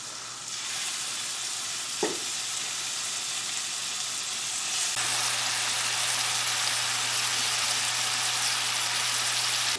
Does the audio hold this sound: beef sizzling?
yes